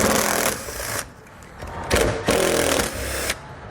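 A socket wrench turns plastic nuts off a trim panel inside a 2017 Chrysler Pacifica, giving two loud bursts of rapid ratcheting close by with a short pause between them and no talk.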